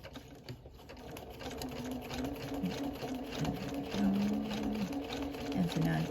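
A domestic sewing machine runs a satin stitch on quilting appliqué, stitching onto black fabric. The motor hums steadily and the needle patters continuously at close range, with a few pitch shifts as the speed changes.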